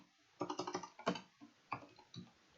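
Keys clatter on a computer keyboard in a quick burst of about six strokes, then a few scattered taps, close and fairly quiet.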